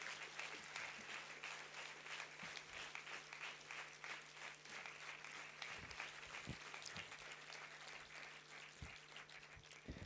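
Steady applause from a university convocation crowd, clapping densely and continuously for about ten seconds with no voices over it.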